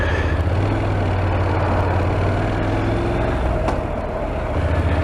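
Low, steady rumble of vehicles idling in a traffic jam, with the deep drone of a heavy truck engine close by and a brief hiss partway through.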